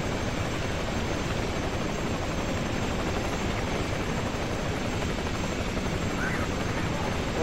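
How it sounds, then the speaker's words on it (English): A helicopter rotor and engine drone steadily and loudly throughout a troop insertion in the PC game Ghost Recon Advanced Warfighter, a dense, continuous thrum with no pauses. "Okay, so we've got helicopter insertion."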